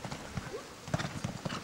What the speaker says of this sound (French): C'est le même cheval quand même.